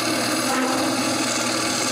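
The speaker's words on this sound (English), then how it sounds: "I chuck this on my lathe and drill a 3/4 inch hole in the center." Drilling a 3/4 inch hole through the center of a wood piece chucked on a lathe gives a steady, continuous grinding and rasping cut at close range, with no voices.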